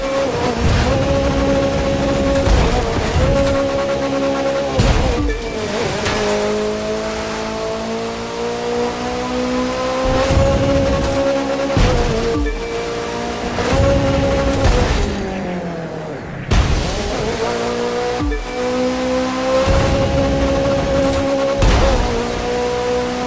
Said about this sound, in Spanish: Escucha el motor.